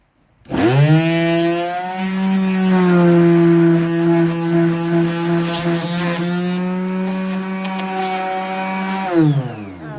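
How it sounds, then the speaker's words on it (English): A power sander whines steadily while sanding stenciled lettering off a wooden paint container, a loud sustained motor tone with slight pitch shifts that runs for about nine seconds before winding down. "so it's not taking that long to actually sand it off"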